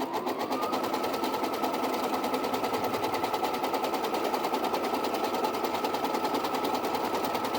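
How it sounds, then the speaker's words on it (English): Embroidery machine stitching a crosshair onto stabilizer with dark blue thread, a steady, rapid, even needle chatter running continuously at moderate volume with no talk. "I'm going to let it embroider that crosshair onto"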